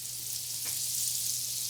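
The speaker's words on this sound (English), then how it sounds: "Oh, listen to that sizzle." Vegetables sizzle in a hot pan during a roast turkey dinner, with a steady broadband hiss running through the whole stretch and a low hum underneath, and no voices.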